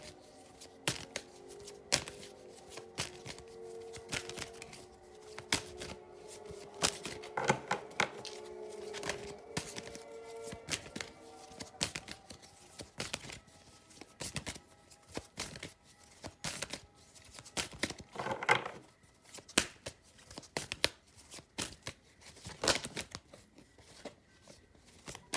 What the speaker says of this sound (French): Alors après on va tirer des cartes d'oracle.